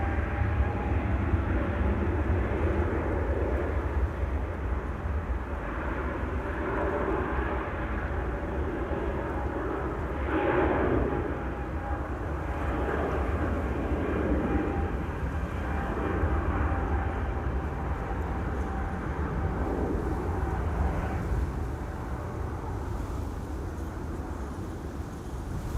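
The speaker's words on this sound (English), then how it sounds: "now leaving again for Milan. ITA Airways flight 121." ITA Airways Embraer jet departing Amsterdam Schiphol for Milan, a moderate, sustained engine rumble with low-frequency roar and faint rising surges, heard at a distance without talking.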